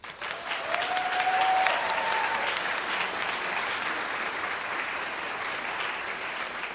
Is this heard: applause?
yes